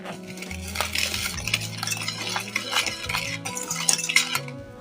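Spoon stirring a homemade chocolate syrup mixture with milk in a pot, giving soft, steady scraping and light clinks against the metal, heard over background music with no talking.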